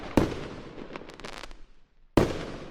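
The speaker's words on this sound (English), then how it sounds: "Look at them fireworks" Fireworks bursting outside during a Fourth of July celebration: two sharp, loud blasts about two seconds apart, each followed by a crackling, decaying tail and fizzing sparkle.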